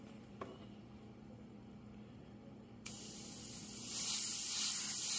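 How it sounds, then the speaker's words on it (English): Airbrush spraying paint onto a space galaxy painting, a steady soft hiss that starts quietly, jumps sharply louder after a click partway through and then swells further, with no talking. "Just spray over the clouds you don't want."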